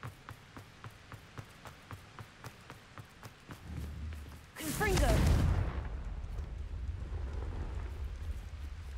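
A Confringo spell blast in Hogwarts Legacy, one sudden crackling burst that swells into a loud rumbling roar and then settles into a low sustained drone, following a run of soft rhythmic footstep-like ticks.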